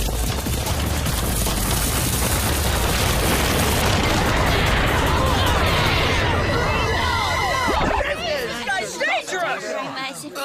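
Cartoon fireworks going off while still packed in their boxes: a dense, continuous barrage of crackling pops and booms for about eight seconds, then scattered whistling, squealing bursts trailing off.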